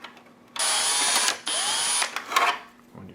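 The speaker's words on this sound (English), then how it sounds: "We're going to take our drill, put this guy in place," A power drill boring a hole into a plastic prop resistor for a Spirit Halloween Ghostbusters proton pack, with two close, high whining bursts of the motor and a brief pause between them, then winding down.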